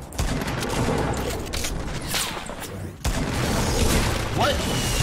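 Gunfire and explosions from a Fortnite match, a dense, loud barrage of shots and bangs running continuously with a sharp break partway through.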